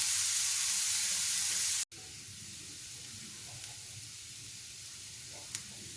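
Grated radish fries in oil in a pan, a steady close hiss of sizzling that runs throughout, briefly cutting out once, with a couple of faint clicks and no talk.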